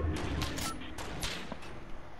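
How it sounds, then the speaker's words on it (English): Video game gunfire crackles in rapid, loud bursts close up, clustered in the first second and again near the middle, over a steady noisy background. "Are they shooting at us?"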